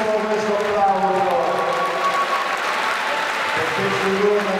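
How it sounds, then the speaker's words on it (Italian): Crowd applause at a boxing event, sustained clapping from an audience with voices mixed in, steady and moderately loud throughout. "Facciamo fortissimo questo applauso"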